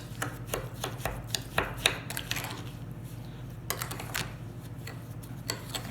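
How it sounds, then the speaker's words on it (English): A spoon clicks and taps rapidly against a bowl while sugar, pepper, red wine vinegar and Worcestershire sauce are mixed for a cocktail meatball sauce, in close, irregular ticking bursts over a low hum. "I mix this together."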